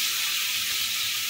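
Boiled potatoes hit a hot oiled pan and sizzle, giving a steady, loud, even frying hiss with no pauses.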